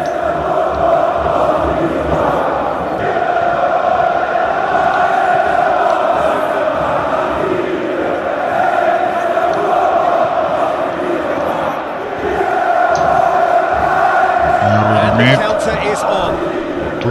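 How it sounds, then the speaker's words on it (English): A stadium crowd in PES 2021 chants in a sustained, droning roar that swells and dips across the whole stretch, while commentators talk over it. "Crowd calling for him to shoot."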